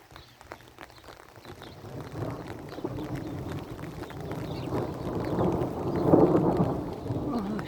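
Rain falls steadily during a spring thunderstorm, with low rumbles of thunder rolling underneath. The sound swells gradually and peaks near the end, and no one speaks.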